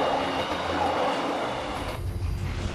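A train runs through snow on a freezing day of about minus 20 degrees, giving a steady, loud rail rumble with rolling wheel noise that lasts throughout and deepens slightly near the end.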